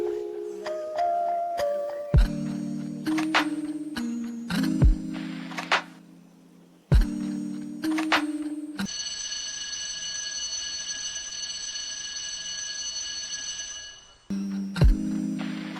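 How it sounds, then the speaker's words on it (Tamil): A mobile phone ringtone goes off again and again, bursts of bright electronic tones ringing out in a quiet room with short gaps between the rings and no voices. "என்னப்பா போன் வந்துக்கிட்டே இருக்குதா?"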